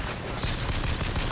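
Rapid gunfire in the Bioshock Infinite video game, a dense, continuous burst of shots filling the whole moment at steady loudness.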